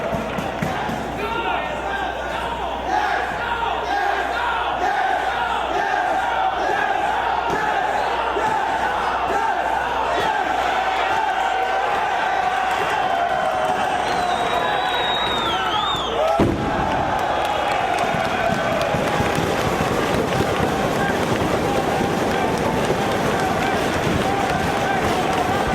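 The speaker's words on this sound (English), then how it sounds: "I love that yes, no chant we just heard from the fans cheering on who they want" Wrestling crowd at a match chanting and cheering loudly for its favorite in a back-and-forth yes, no chant, a dense continuous roar from a large arena audience with a brief thump partway through.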